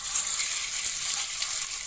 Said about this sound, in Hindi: अब हम एक बर्तन में 2 टेबलस्पून ऑयल, कुकिंग ऑयल डाल रहे हैं और अब इसमें मैंने मिक्स की हुई चिकन जो है इसमें शामिल कर लेंगे।